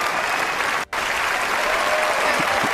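Steady applause from a crowd at a community awards event, dense and loud throughout, with one brief dropout near the start.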